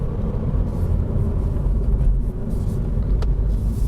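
A Mini F56 Cooper S with an ECU Stage 1 tune drives under load. A steady, loud engine drone and road rumble run throughout with no talk, while a faint turbo whistle stays hard to pick out.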